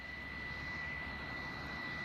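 A military jet aircraft roars in a steady, distant drone with a constant high whine over broadband rumble.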